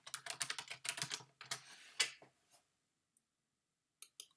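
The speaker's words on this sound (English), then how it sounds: "It'll say a transfer, so I have to put my password in." A password tapped out on a computer keyboard: a quick flurry of close keystrokes, then a few scattered taps after a short pause, with no voices.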